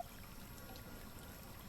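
Water trickles and pours in a quiet, steady stream beside a river in the mountains at night, a soft continuous wash of liquid with no voices.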